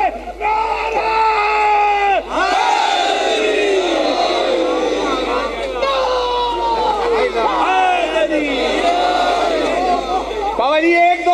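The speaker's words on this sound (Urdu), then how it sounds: "پوری طاقت نال دو ہاتھ بلند کر کے نعرہ" A large crowd at a religious gathering in Jhang roars a slogan in unison with raised hands, loud, sustained shouting in repeated waves, with a lead voice calling between the responses.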